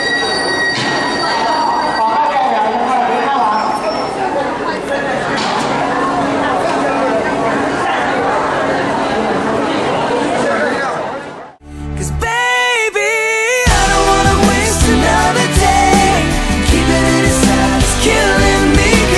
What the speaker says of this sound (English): So this is the subway.